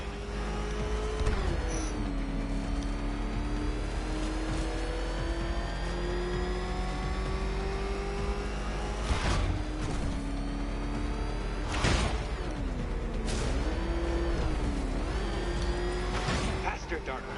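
A ramshackle vehicle engine revs hard in Batman Arkham Knight, a steady droning roar with rising and falling pitch sweeps and brief surges, loud and continuous under a talking voice.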